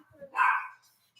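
A single short, sharp dog bark rings out close by indoors, with brief faint sounds on either side.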